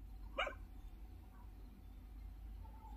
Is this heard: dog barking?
yes